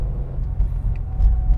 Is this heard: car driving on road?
yes